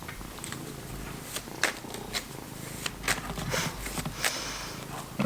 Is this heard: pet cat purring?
yes